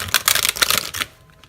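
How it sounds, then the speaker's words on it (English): A rapid burst of riffling tarot card clicks, close and crisp, then it stops and leaves a quiet tail. "Oh, that was a great shuffle."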